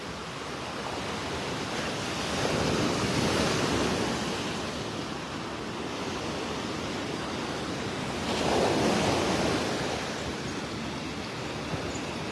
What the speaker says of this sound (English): The roar of Mother Ocean. A lot of waves for us.